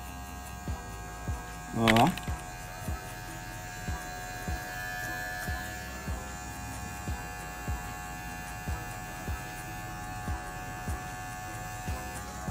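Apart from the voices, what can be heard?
electric hair clippers with a guard cutting a fade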